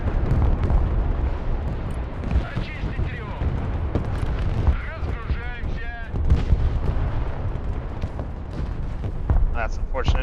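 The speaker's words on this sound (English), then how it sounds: "My BMD-2s that I was just moving up to push in just arrived on target for them to get hit with a fucking barrage" An artillery barrage slams into armored units in the real-time war game Broken Arrow, with dense overlapping booms and bursts rumbling continuously while someone talks over the din.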